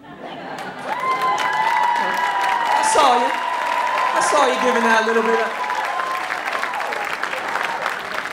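Applause and cheering fill a room at a youth poetry slam for a performer, steady dense clapping with whoops and laughter, while a host talks over the noise.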